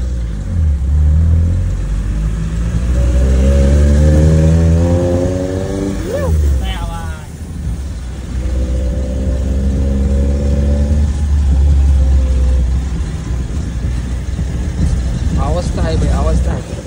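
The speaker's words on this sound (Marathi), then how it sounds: "गाडीचा तर आवाज क्वालिटी येतोय" An off-road vehicle's engine idles and revs outdoors, rising in pitch in several surges over a constant low rumble, while people talk loudly nearby.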